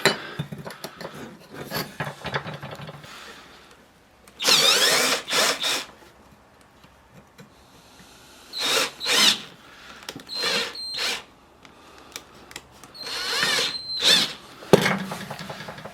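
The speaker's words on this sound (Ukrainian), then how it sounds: "з цієї сторони обріжу болгаркою" Bursts of an angle grinder cutting rough metal, high whining screeches in several separate passes with quieter pauses between, close and loud.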